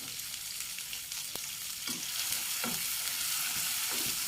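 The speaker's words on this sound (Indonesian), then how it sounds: "Masukkan dulu, sementara kita numis bumbunya" Spice paste for rawon fries in hot oil with a constant close sizzle, broken by several sharp scraping strokes of a spatula stirring the pan.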